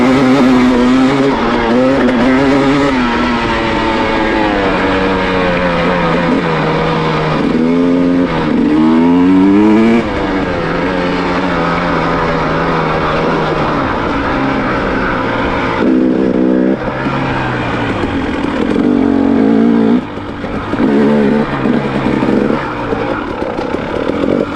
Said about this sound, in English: unload the bikes, jump on them, and go for a rip